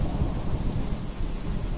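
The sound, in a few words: thunder and torrential rain sound effect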